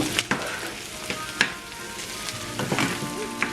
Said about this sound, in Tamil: போட்டுட்டு மிக்ஸ் பண்ணி விட்டுட்டு இதை இன்னும் லைட்லி கோல்டன் ப்ரௌன் வரையும் பொரிய விடுவோம்.